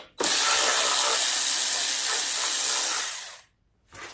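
A ratchet or power driver removing 7/16 bolts from the cover of a Coast to Coast front-tine tiller, one continuous loud mechanical whirr of about three seconds, then a pause and a brief restart.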